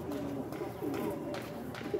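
A high-flyer pigeon coos in soft, low, throaty bursts near a loft, with steady background hiss and faint voices in the surroundings.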